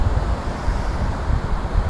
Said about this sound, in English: these ocean waves are zenning me out